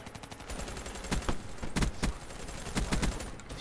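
Gunfire from the PC shooter Black Ops 3: a loud, steady stream of shots with several sharp, heavy bursts standing out, close and continuous, with no talking.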